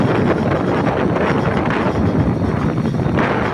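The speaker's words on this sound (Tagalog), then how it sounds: "Medyo malakas ng hangin dyan." Strong beach wind roars steadily against the microphone, a constant loud buffeting rumble with no pauses and no voices.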